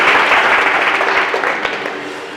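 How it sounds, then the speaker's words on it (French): Sustained audience applause fills the room at a bilingual talent competition show, a dense steady wash of many hands clapping that slowly fades a little toward the end, with no voices over it. "Sous vos applaudissements pour elle, s'il vous plaît."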